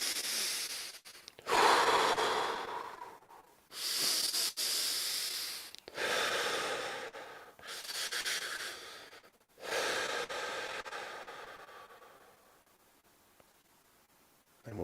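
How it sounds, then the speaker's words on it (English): Deep bellows breaths taken during a morning meditation sit, three or four long, loud forceful inhale-exhale cycles with short pauses between, close and alone, fading to quiet at the end. "So let's do 3 really large bellows breaths."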